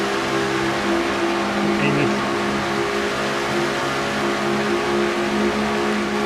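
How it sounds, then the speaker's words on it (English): Stock car engine screaming at sustained high revs from an on-board view during a racing series all-star event, a steady loud drone holding throughout while a commentator talks over it. "On board with Caleb Fogler in car number 24."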